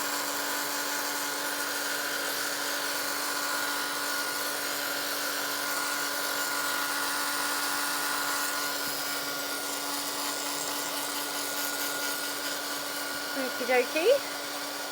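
Hair dryer blowing steadily on wet paper, loud and close with an unbroken high whir for the whole stretch; near the end a person speaks briefly over it.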